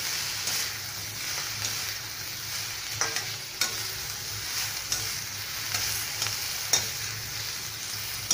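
Pakoras being stir-fried in a pan for chicken Schezwan rice, a constant soft sizzle with periodic ladle clinks and scrapes, close by and with no talk.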